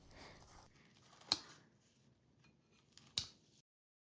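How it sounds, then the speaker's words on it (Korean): Hotteok, a Korean sweet pancake filled with cinnamon and honey, cut into small pieces with scissors: two sharp, crisp snips about two seconds apart, close and clear, with soft handling noise before the first. "작은 조각으로 잘랐어요."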